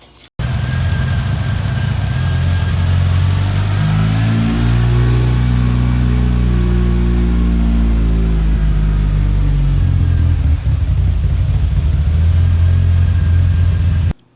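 A Mitsubishi Evo on an E85 tune with a Haltech install starts and runs: a loud, close engine with rising and falling revs over a deep rumbling idle, then settling back.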